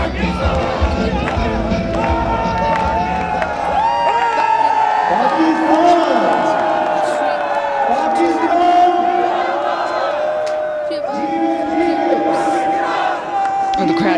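Cricket stadium crowd at a PSL match between Islamabad United and Lahore Qalandars during a close chase, loud sustained roaring and chanting with rising horn-like tones, heard under commentary.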